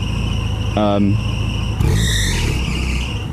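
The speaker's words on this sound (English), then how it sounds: "so it's developed a bit of a belt squeak, which is a pain." A drive belt on the power steering pump of a Porsche 944 S2 squeals in two sharp bursts over a steady engine idle, the first brief and the second longer and higher.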